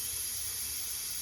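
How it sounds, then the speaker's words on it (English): Compressed air leaks from a disconnected Tesla air suspension line as a faint, steady, even hiss that runs without a break. "now it's leaking air"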